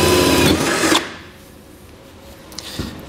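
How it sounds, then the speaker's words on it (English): A 3/4-inch hole saw drills into the metal floor of a truck bed while an underbed gooseneck hitch is fitted, a loud close grinding whir for about a second that then cuts off, leaving faint background noise and a couple of small knocks. "we're going to be using a 3/4-inch hole saw"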